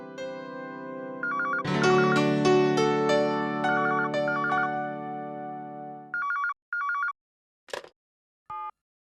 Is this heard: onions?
no